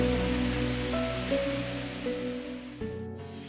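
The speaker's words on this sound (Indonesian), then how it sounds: "Air terjunnya cukup besar, airnya juga banyak, deras." Kanto Lampo waterfall in Bali, a large, heavy flow of water, pours in a steady broadband rush at moderate distance with no one talking, the sound thinning abruptly near the end.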